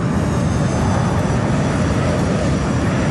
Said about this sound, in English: the storm rushing through the cockpit drowns out their replies